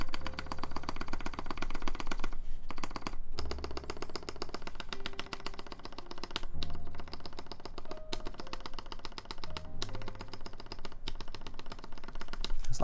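Clacky keystrokes on a Noxary Vulcan Pro mechanical keyboard, a fast continuous run of typing with brief pauses between bursts, close and fairly quiet.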